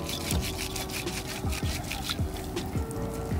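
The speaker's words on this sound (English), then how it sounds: "I'm going to be rubbing this together until it starts to sud." Hands rubbing fresh cerasee herb in warm water to work up a lather: soft, steady squelching and swishing strokes repeating about twice a second, close and fairly quiet.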